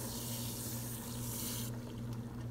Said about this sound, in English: And we're going to pour in the grits.